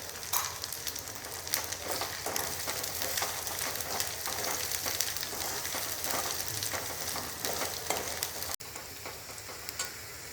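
Chopped onions sizzle in hot oil with turmeric and salt in a pan, a steady crackling fry with constant fine spitting and occasional stirring scrapes, close and continuous, briefly dipping near the end.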